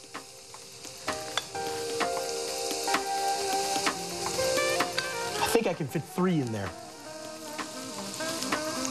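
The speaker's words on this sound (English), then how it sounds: "I'm just gonna spoon a little bit of pancake batter, and it's starting to brown and sizzle immediately." Pancake batter sizzles in hot oil and butter with garlic in a pan, a steady crackling fry with scraping and clinks of utensils while a person talks briefly over it.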